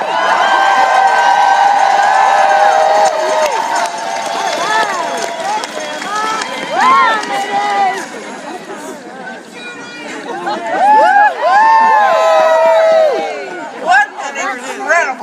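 A large rally crowd at the Maine Women's March cheers and whoops loudly and continuously, with many overlapping voices shouting and calling out, surging in waves over a dense roar.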